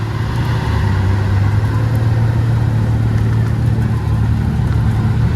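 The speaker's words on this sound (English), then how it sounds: "Well, that's a new Aventador to the squad." Engine of a white Lamborghini Aventador SVJ supercar at a Lamborghini Orlando gathering, a loud, steady low drone with a constant hum and no clear revs.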